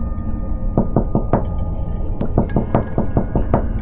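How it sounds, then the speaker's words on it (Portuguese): Loud knocking on a truck door after midnight: a few spaced raps, a short pause, then a longer run of firm knocks over a steady low droning background. "De repente, ouvi uma batida forte na minha porta."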